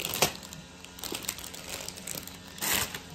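Crinkly rustling of shredded paper filler being handled close by in a gift basket, a sharp crunch early on and another burst of rustling near the end, with a faint low background hum.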